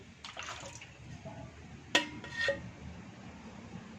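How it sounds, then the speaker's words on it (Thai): Water is poured from a container, faint and close, for a shampoo and hair wash, with a brief clink of a vessel and a short splashing pour in a quiet room. "เดี๋ยวเทน้ำในนี้มาก่อน"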